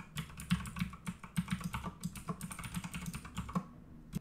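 Computer keyboard keys pressed in quick, irregular bursts of close, crisp clicks and taps, used to send game inputs while idling, with no voices.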